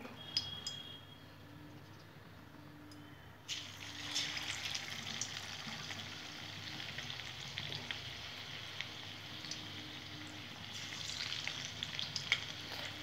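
Shrimp pakoras sizzle in hot oil, a steady crackling fry that gets brighter and busier as more batter drops in, close and continuous with no voices.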